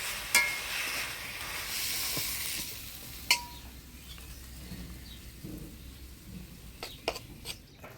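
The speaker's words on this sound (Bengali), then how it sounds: "শাক ভাজা হয়ে গেছে" Mixed leafy greens frying in a pan give a faint, soft hiss that fades after a few seconds, broken by a handful of sharp clicks and taps of a utensil against the pan, with no talking.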